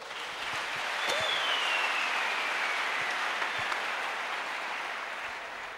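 Church congregation applauding throughout, a broad steady wash of clapping at moderate level with a few sharper claps and a brief whistle-like tone near the start.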